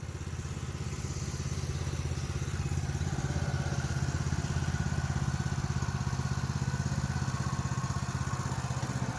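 A small engine chugs steadily at close range, a continuous thumping putter that stays even throughout.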